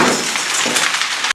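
A basement glass window shattering, heard as a loud, sustained burst of breaking glass with tinkling fragments that cuts off abruptly at the end.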